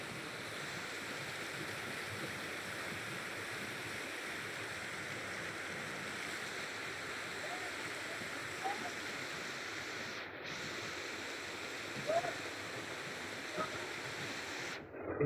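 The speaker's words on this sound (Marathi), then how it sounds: "हे बघा पूर्ण दगडीच्या खालतून पाणी येतंय।" Water flows out from under rocks at a hidden spot in Konkan, making a continuous moderate rushing, burbling sound with a couple of faint knocks and no clear talk.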